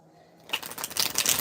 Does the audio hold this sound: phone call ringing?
no